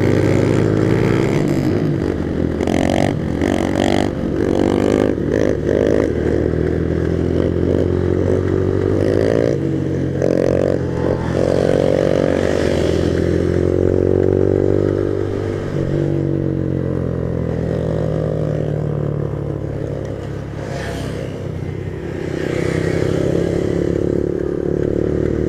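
Motorcycle engine running loud and close while the rider pulls wheelies, a sustained droning roar with wavering pitch and throttle swells throughout, no voices.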